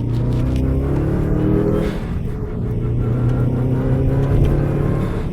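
A Subaru car drives smoothly after an ignition coil pack repair, its engine giving a steady, even hum and road rumble from inside the cabin with no sputter.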